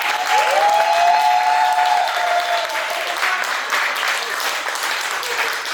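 Audience applause at a live cooking event, steady dense clapping filling the room, loud and sustained throughout with a faint voice briefly heard over it near the start.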